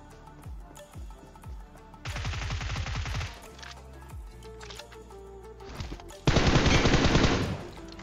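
Gunfire from a squad fight in PUBG: rapid automatic bursts and single shots crack out in clusters, with a long loud volley near the end and no talk over it.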